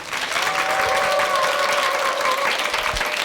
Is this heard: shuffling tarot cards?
no